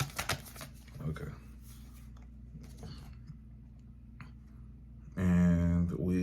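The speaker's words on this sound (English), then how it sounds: "I'm just going to keep shuffling." Tarot cards being shuffled by hand, soft riffling and tapping bursts that come in short clusters at a moderate distance, with someone talking over parts of it and a louder voice near the end.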